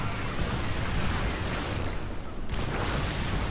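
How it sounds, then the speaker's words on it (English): Thor high impact payload explosions in StarCraft 2 tumble out as a dense, continuous rumble of booms and bursts with no clear gaps, fairly faint and washed together like distant artillery. "the mode that shoots up high impact payload explosions"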